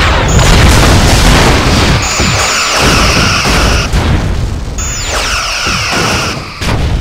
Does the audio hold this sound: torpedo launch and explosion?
yes